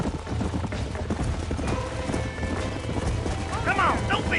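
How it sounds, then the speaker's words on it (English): Horses gallop in the Western game Red Dead Redemption, a loud, rapid clip-clop of hooves close by, ending with a sharp neigh and whinny over the running herd. "There's the horses!"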